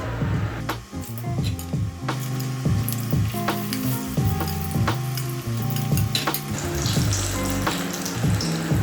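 Korean fried chicken pieces go into hot oil for a second fry, giving a loud, continuous sizzle with bubbling and occasional stirring clatter close by.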